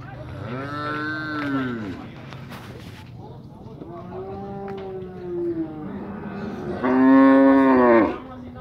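Cattle low loudly and repeatedly inside a crowded pen at a livestock fair in Tabira, Pernambuco, with several long, drawn-out moos following one another up close, the last one the strongest.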